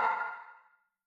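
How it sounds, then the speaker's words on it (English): A Kontakt XL library vocal sample named "Shopping Tall", a single block-like hit drenched in big reverb, loud at onset and decaying smoothly to silence in under a second. "Basically sounds like a block or something with a big reverb"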